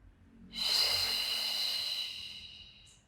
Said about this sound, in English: Exhale. In breath. Exhale.